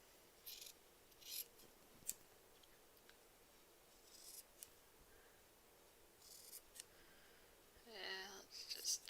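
Fabric scissors trimming a quilt appliqué seam allowance, a few faint scattered snips and crisp cuts close by, with a brief louder rustle near the end, in an otherwise quiet room.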